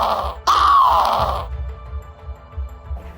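A voice imitates a Bigfoot mating call in a pelican-like style, one loud, rough, wavering honk lasting about a second, followed by quiet low rumble.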